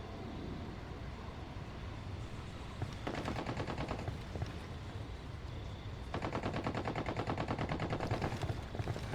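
Bursts of rapid automatic gunfire in a video game, heard at a distance against a steady background hum, one stretch around the middle and a longer burst near the end, with no talking.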